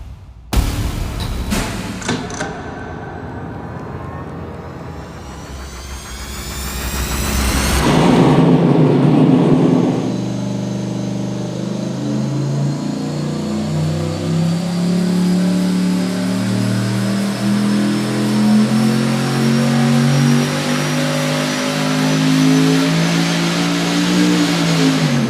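An LS V8 on an engine dyno fires up and revs hard, its loud roar climbing then settling into a steady high-rpm drone that holds for a long stretch.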